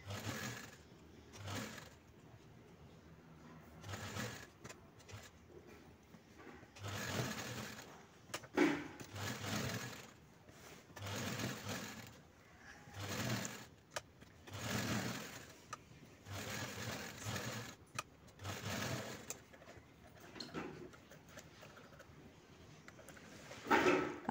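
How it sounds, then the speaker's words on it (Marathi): A sewing machine stitches around a blouse piece in repeated bursts of whirring, each run starting and stopping with short pauses between, steady and fairly close. "यानंतर सर्व बाजूंनी मी याला स्टिच करून घेते."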